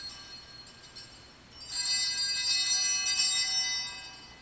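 Small altar bells rung by a server during Mass practice in a church, a bright shimmering jingle that starts around the midpoint and rings on for a couple of seconds before fading, with no talk over it.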